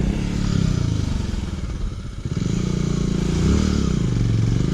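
A Honda Africa Twin motorcycle ridden off-road, its engine thrumming steadily up close, rising and falling as it climbs over rough ground, with faint clatter from the terrain.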